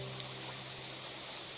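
Rain in the Minecraft video game falls as a steady, soft hiss with a faint low tone held beneath it, quiet and even throughout with a couple of tiny drip ticks.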